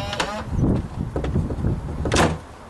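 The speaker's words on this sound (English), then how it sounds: "So I'm going to go ahead and lock it." Z-Wave smart lock locking a garage door, a short whirring motor run with mechanical clicks and a firmer clunk near the end, close by and without talk.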